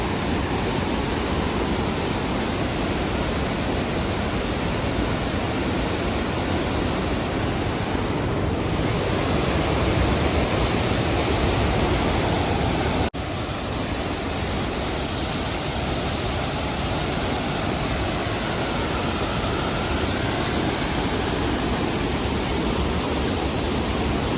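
A loud waterfall roars in an unbroken, dense wash of noise close to the listener for the whole stretch, with no voices.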